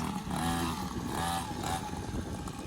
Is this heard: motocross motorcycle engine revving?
yes